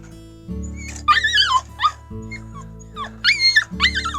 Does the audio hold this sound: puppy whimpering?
yes